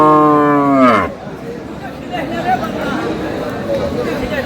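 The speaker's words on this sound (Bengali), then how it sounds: "গাভী বাছুর" A cow or calf at a Dinajpur cattle market gives one loud harmonic moo lasting about a second. Steady crowd chatter and market hubbub follow it.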